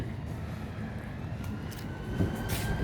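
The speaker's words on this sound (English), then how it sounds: "There's a train going by." A train rumbles past at a distance, a steady low roar that swells slightly toward the end with no voices.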